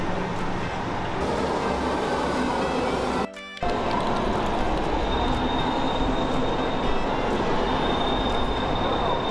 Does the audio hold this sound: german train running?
yes